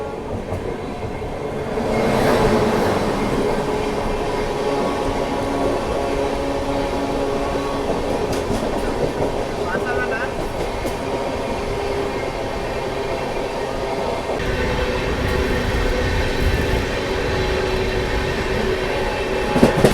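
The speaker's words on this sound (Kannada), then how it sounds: "ಇದು ಬಂದ್ಬಿಟ್ಟು ಹೈ ಕೆಪಾಸಿಟಿ ಪಾರ್ಸಲ್ ವ್ಯಾನ್ ಅಂತಾರೆ ರೀ" A high-capacity parcel van special train rolls past in a loud, steady rumble for about twenty seconds, with rhythmic clickety-clack of wheels over rail joints and occasional metallic squeals, and no voices.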